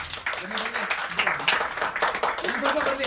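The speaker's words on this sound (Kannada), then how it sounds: "ದಯವಿಟ್ಟು ಒಂದು ಚಪ್ಪಾಳೆ ಬರಲಿ ಪ್ಲೀಸ್." An audience breaks into applause, dense clapping that runs steadily throughout while a voice speaks over it.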